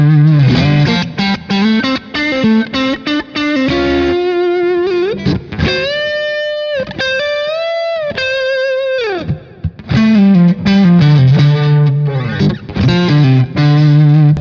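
Distorted electric guitar through a Kemper Profiler amp: loud, chorus-tinged chugging riff notes with sustained bends in the middle, played alone.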